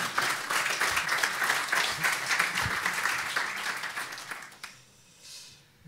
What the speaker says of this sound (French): Petits applaudissements.